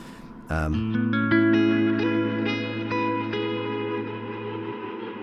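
Electric guitar run through a Strymon BigSky MX reverb pedal with overdrive from a Walrus 385, a struck chord swelling into a long, thick, sustained reverb wash that builds and slightly distorts before slowly decaying.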